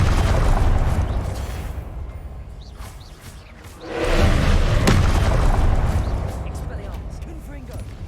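Blasting-spell explosions in the Hogwarts Legacy video game: a loud, broad boom swells in near the middle and rolls on over dense game noise and battle clatter, with a sharp crack soon after.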